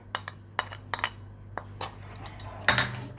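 Spoon clinking and scraping against a bowl while spices, onion, salt, red chili and coriander powder are stirred into a potato sandwich omelette mixture; a handful of sharp, close taps spaced irregularly, with no talking.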